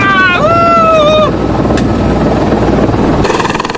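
A helicopter flown by a woman pilot lifts off in Melbourne, Australia, with a loud close rotor chop and turbine drone throughout, a rising whine at the start, then steady beating blades.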